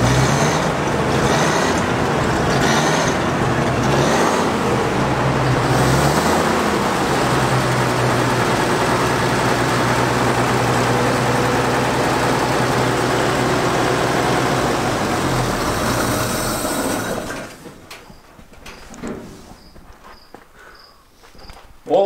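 A restored half-track military vehicle's engine runs and idles steadily, a loud continuous low rumble close by that drops away near the end, leaving quiet background.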